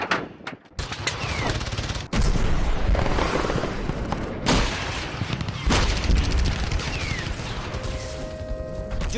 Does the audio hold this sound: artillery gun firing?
yes